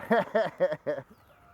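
A hen clucks four times in a steady, close rhythm, each cluck a short throaty burst, then falls quiet with faint background hum.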